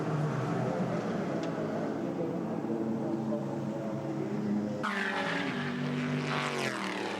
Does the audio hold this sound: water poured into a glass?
no